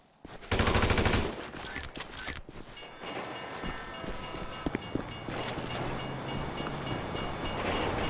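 A train rumbles past in the Grand Theft Auto 5 video game, a loud sustained roar of wheels and clattering cars with a burst of gunfire-like cracks at the start, continuing steadily throughout.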